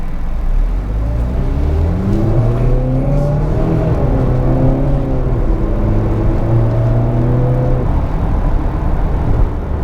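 Engine of a 2020 Range Rover Velar P250 S, a hum that climbs in pitch as the SUV accelerates, then holds a steady cruising drone with a low rumble underneath, no talking.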